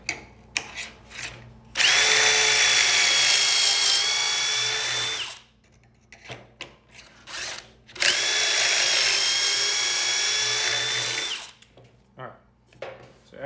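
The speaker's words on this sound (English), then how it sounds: "let's go ahead and get our pocket holes drilled" A power drill bores pocket holes into a reclaimed wood board in two long, loud, steady whining bursts, each followed by short clattering handling noises and brief talk close by.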